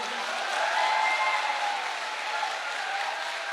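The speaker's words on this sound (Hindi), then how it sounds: "इसके लिए तो ताली बजा दो" A hall audience at a health awareness program clapping together, a dense, even burst of applause that holds steady throughout.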